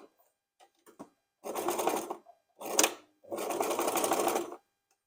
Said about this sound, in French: je couds le bas de mes pièces, comme ça je rattrape ceux qui ont coupé au pli